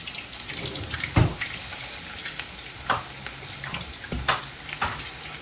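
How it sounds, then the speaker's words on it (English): Wing chips frying in hot grease give a steady close sizzle, broken by several sharp pops and crackles as pieces hit the oil and the grease bubbles up. "you get some grease boiling up"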